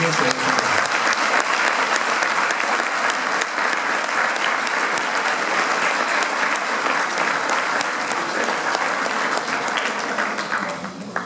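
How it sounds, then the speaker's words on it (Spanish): An audience at a book presentation welcomes a speaker with sustained, dense applause that stays loud and even for about eleven seconds, then begins to fade at the end. "Recibimos con un fuerte aplauso a Nicolás Márquez"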